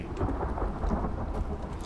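Steady rain with rumbling thunder in the survival game Icarus, a dense, continuous wash of low rumble and hiss filling the whole stretch with no voices over it.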